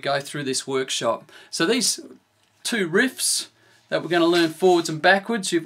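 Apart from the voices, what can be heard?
None of the usual background noises is heard.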